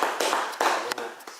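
A few people in a small audience clap sparsely at the end of a classroom-style cultural talk about Easter. The claps come as scattered, distinct taps at an uneven rhythm, close by and moderately loud.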